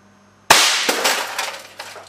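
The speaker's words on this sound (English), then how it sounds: "I'll shoot again with a glass marble." An air cannon fires a glass marble into a dead toaster, giving one sharp loud smash followed by a trailing rattle and tinkle of breaking glass and debris.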